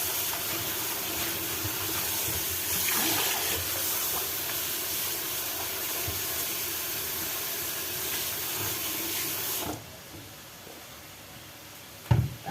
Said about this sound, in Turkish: Fasulyelerimi yıkayayım da